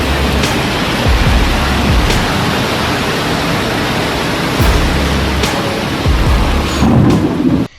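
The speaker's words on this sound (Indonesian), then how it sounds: "jalanan di kawasan Parakan Muncang mendadak menjadi sungai yang mengalir deras" Floodwater rushing down a street in Parakan Muncang, Bandung, a loud, continuous broadband roar with a few heavier surges, heard close and without talk.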